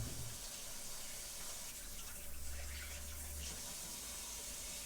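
Water runs steadily from a tap as a sourdough bread session gets underway, a constant rushing flow close by with no talk over it.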